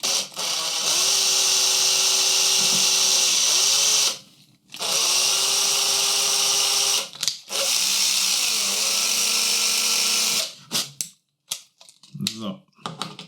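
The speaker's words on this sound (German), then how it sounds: "Und dann schneiden wir hier ein Gewinde rein." Cutting an M2 thread with a tap, likely driven by a small power tool and lubricated with cutting oil, in a sustained loud whirring grind that stops briefly twice and then breaks into short bursts.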